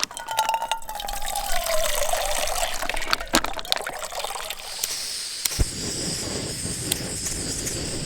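Water scooped from a mountain stream beside the Bishop Pass Trail in the Eastern Sierra, a close splash and gurgle followed by steady trickling and dripping as a container fills.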